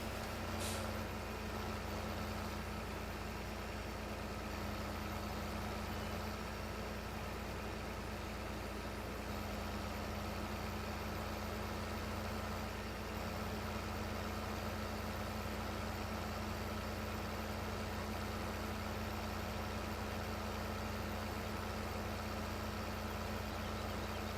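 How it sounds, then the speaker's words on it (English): A heavy diesel articulated tractor engine in Farming Simulator 15 idles steadily for the whole stretch, a constant low rumble with a brief hiss near the start and no voices. "we're going to drive the articulated tractor"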